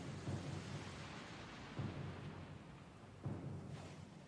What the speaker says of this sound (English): The storm's getting pretty loud